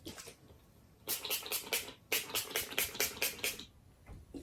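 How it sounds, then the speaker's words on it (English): Mario Badescu rose water facial spray misted onto a face in a series of short, close hissing bursts, two quick runs of about five pumps each with a brief pause between. "now I'm gonna go ahead and spray my face with a little bit of this Mara Badescu Rose Water Spray"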